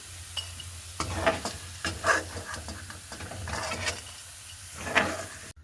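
Potato pieces fry in hot oil, a soft low sizzle running under repeated scraping and clattering strokes of a spoon stirring them in the pan, fairly close and uneven in rhythm.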